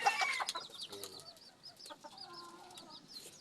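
Texas breed chickens cluck and chatter nearby in short, irregular bursts, with a few higher squawks mixed in over a quiet background.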